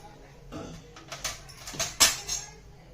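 Spoon stirring a bottle gourd and lentil curry with coriander in a metal pan, giving a few soft scrapes and clinks spaced over a few seconds, quiet and close.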